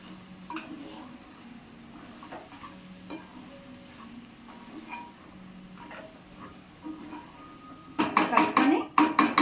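Spicy goat head curry is stirred in a pot, with soft faint scraping through most of the stretch, then a burst of loud rapid clattering and scraping of a spoon against the pot near the end.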